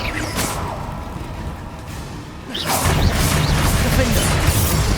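The Confringo blasting spell goes off in Hogwarts Legacy with a booming crash and whoosh, followed by a louder sustained rumble of impacts as the battle continues.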